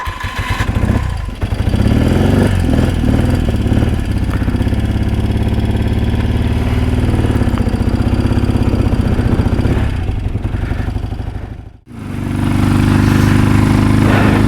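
A 1979 BMW R100S motorcycle boxer twin starts up and runs, a loud close mechanical drone with rising and falling revs, a brief cut-out near the end, then the engine settles into a steady idle again.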